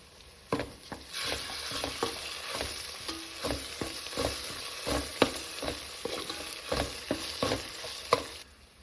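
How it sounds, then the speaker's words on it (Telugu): Onion paste with ginger garlic paste fries for a chicken curry, a constant close sizzle punctuated by repeated spoon stirs and scrapes against the pan. "ఇప్పుడు ఇందులో ఒక స్పూను అల్లం వెల్లుల్లి పేస్ట్ వేసుకొని లైట్గా వేయించుకోవాలి"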